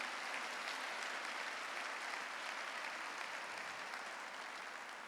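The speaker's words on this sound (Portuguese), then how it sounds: "Dá um aplauso ao Senhor Jesus." A Sunday church congregation applauds steadily, a faint, even wash of many hands clapping heard from a distance.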